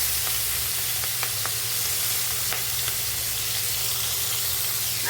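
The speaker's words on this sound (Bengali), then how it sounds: "তেলটা আমার গরম হয়ে গেছে এখন আমি চিংড়িগুলো দিয়ে দেবো দিয়ে হালকা করে আমি ভেজে নেবো চিংড়িটা" Prawns fry lightly in hot oil in a pan, giving a steady, dense, close sizzle that holds evenly throughout, with a few faint clicks and pops on top.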